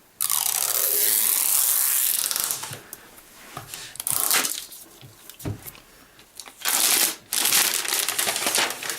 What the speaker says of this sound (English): So we have a little zipper here to pull down to release it.